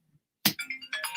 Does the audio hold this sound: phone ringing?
yes